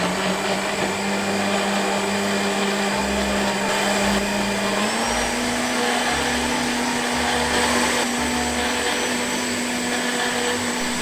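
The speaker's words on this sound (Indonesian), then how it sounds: "Di sini aku mau blender daun pandan dengan air sebanyak 500 ml." Electric blender running steadily, whirring loudly as it blends a large quantity of pandan leaves with 500 ml of water, its motor tone shifting slightly partway through, with no talking.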